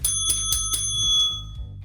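A bright bicycle-style bell rings in several quick successive strikes, then its metallic tone rings out and fades, clear and alone without talk.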